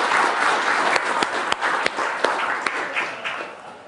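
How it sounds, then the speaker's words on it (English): A lecture audience gives the organizing committee a round of applause, a moderate wash of many hands clapping with a few sharper, closer claps standing out over the steady patter. "let's just have a round of applause to the committee who did this"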